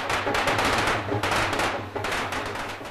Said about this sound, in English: Today, luckily, it's fireworks, not bombs.